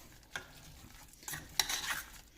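Apple and oats being stirred in a pan over low heat, giving a few soft scraping, swishing strokes with a light sizzle, close and fairly quiet, with no talk.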